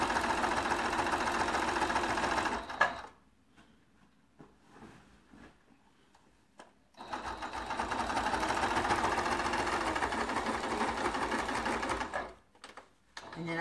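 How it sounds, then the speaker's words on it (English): A sewing machine stitches and backstitches a quilt binding seam in two long, steady runs of dense mechanical whirring, separated by a quieter pause with small handling noises; a voice speaks briefly. "Also going to backstitch on that seam just so it's there and it's going to hold it."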